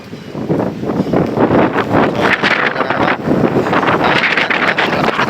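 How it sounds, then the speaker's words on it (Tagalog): Strong typhoon wind roars across an open roof deck in dense, continuous gusts buffeting the microphone, with rain mixed into the rushing noise. "lakas ng hangin at ulan"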